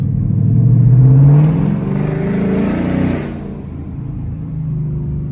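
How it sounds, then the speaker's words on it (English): A 2022 Mustang GT 5.0 V8 engine rumbles at close range, rising in a rev near the start before settling into a steady idle-like drone. "Let me let y'all hear the car real quick."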